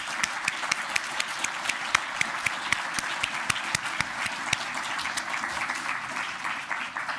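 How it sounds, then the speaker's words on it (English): An audience at an investiture ceremony gives a final round of applause, with distinct individual claps sounding fairly close over a steady wash of clapping that thins out toward the end. "can we just have one final round of applause for Ximing, Yusuf, and Errol?"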